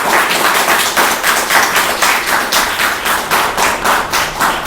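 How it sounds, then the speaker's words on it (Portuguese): A church congregation claps in a steady, fast rhythm of loud, even beats that continue without pause, with no voices over them. "Dê uma salva de palmas bem forte para ele."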